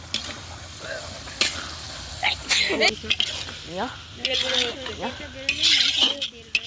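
Chicken pieces fry in a pot during a winter picnic, sizzling and scraping under a spoon as they are stirred, while people talk loudly over much of it.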